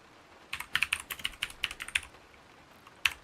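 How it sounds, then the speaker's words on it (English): A loud computer keyboard typed on up close, a quick run of sharp clacking keystrokes in an uneven rhythm, then a pause and one final hard clack, with no talking. "You see how loud that is when I type like this?"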